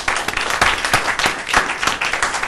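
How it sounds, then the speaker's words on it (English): Lively audience applause for panelists at a policy discussion on conflicts in Nepal, loud, dense clapping with sharp individual claps standing out, no voices. "if you'll join me in expressing a round of applause for all three of our very good panelists"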